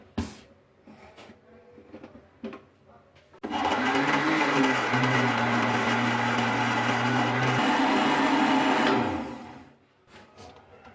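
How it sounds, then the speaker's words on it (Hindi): A blender whirs loudly and steadily for several seconds pureeing mango, its motor pitch shifting slightly, then winds down, with faint clicks before and after. "अब हम ब्लेंडर जार में ब्लेंड करेंगे और इसका जो है प्यूरी तैयार कर लेंगे।"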